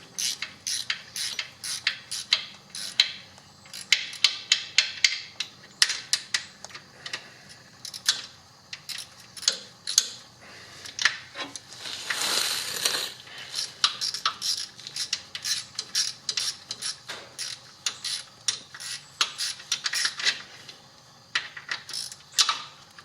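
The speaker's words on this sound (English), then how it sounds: "Now we're going to draw these up with this 12 millimeter here." A 12 mm ratchet tightens engine bolts on a Jeep Cherokee XJ during a piston replacement, giving close, loud bursts of rapid clicking in repeated strokes, with brief pauses between runs and no talking.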